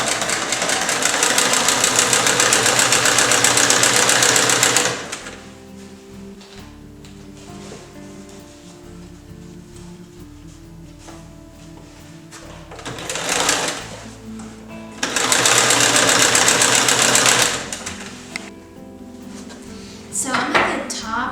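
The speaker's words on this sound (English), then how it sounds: "And then after that, I'll sew the ties in." A sewing machine stitches ties onto the canvas door opening of a tipi. It runs in several loud, fast, rattling bursts with quieter pauses between them, and a person talks during the breaks.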